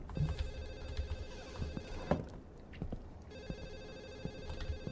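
In the video game Black Sun, a telephone bell rings in repeated bursts against a noisy, busy background inside a secret government facility, with no voices.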